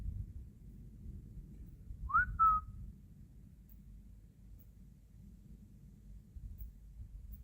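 A single brief two-note whistle from a person, heard once near the middle over a steady low rumble of wind or background noise in a wooded setting.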